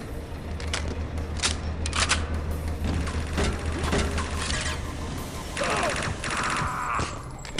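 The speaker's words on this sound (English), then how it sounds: "firing at a distance with a machine gun" Machine gun fire from the Chaser video game, with rapid bursts rattling amid clanking mechanical noises and scattered shots at moderate distance.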